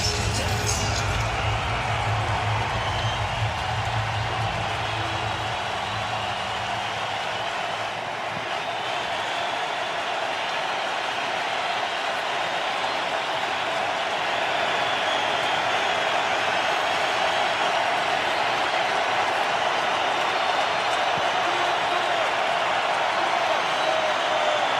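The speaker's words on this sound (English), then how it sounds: "now it'll be third down, and the crowd should be pretty loud here" A loud stadium crowd at a Cardinals home football game on third down keeps up a dense, sustained roar that swells steadily, while a commentator talks over it.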